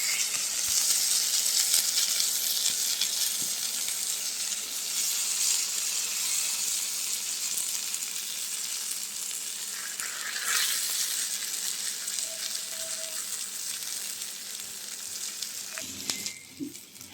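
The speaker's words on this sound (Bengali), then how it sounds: "বেগুনটা পোড়া পোড়া করে ভাজা হয়ে গেছে," Eggplant fries in a pan for bhorta, a continuous close sizzle and crackle with slight shifts in intensity, occasional light stirring or utensil clinks, and no talk.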